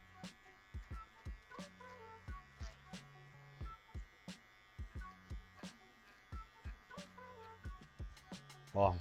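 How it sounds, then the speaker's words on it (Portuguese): An electric hair clipper hums steadily during a men's fade haircut, with a low buzz broken by regular short strokes and clicks as it moves up the head, close and fairly quiet with no talking. "Então a gente vai ter que subir a máquina sempre em movimento reto."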